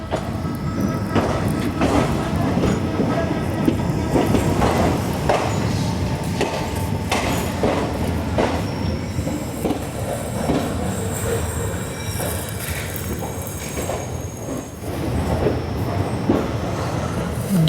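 The Rajya Rani Express pulls out of Jalna station with a continuous rumbling ride, rhythmic clickety-clack of wheels over rail joints and occasional squeals, heard from inside the coach.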